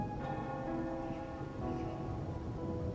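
Rain falls in a video game scene as a steady, even wash of soft hiss under a sustained tonal background bed, with no break throughout.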